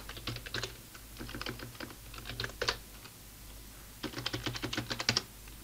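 Short bursts of quick keystrokes on a computer keyboard while a command is entered on a Banana Pi BPi-M3 setup, light clicking in two clusters with a pause between, close and fairly quiet, no speech.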